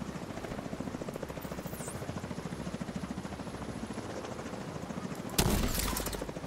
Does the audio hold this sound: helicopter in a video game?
yes